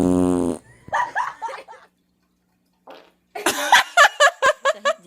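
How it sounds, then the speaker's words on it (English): A woman breaks wind in a loud, close, sputtering burst, surrounded by her own voice and laughter, with a few sharp bursts near the end. "I have to fart."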